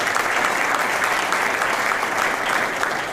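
A large audience at a county address applauds loudly and continuously, a dense, even roar of clapping that fills the whole stretch.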